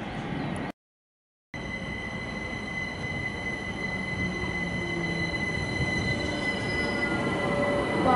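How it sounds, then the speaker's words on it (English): A London Overground train rolls at Brondesbury with steady rail rumble and sustained high-pitched wheel squeal, after a brief dropout near the start, continuous and moderately loud. "we will be taking the Overground from Bronsbury"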